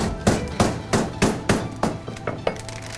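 A heavy kitchen hammer strikes a bagged piece of Ibérico pork to flatten it, with about eight close, solid whacks at a steady pace that grow slightly lighter toward the end, and no voices.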